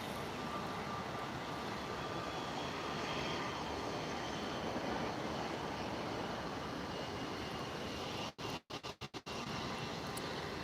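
Embraer jet at Lisbon Airport on a cloudy, windy evening, a continuous engine rumble at moderate distance, broken near the end by a few brief dropouts.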